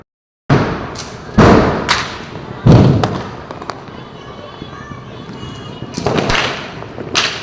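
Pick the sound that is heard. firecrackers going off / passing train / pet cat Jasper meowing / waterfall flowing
firecrackers going off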